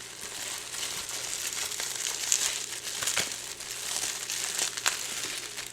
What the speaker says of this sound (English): this is plenty of bubble wrap